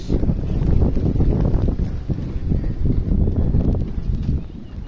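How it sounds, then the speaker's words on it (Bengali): Strong, steady wind gusting around a palm tree, a loud continuous low rumble of buffeting air on the microphone throughout, with no talk. "প্রচুর বাতাস প্রচণ্ড বাতাস"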